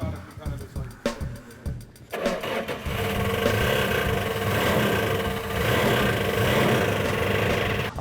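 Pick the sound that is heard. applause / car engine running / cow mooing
car engine running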